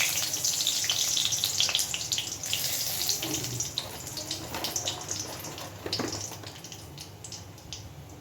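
Curry leaves and a dried chilli crackle and sizzle in hot oil for a tempering, a steady, close hiss with small spitting pops throughout and no voices.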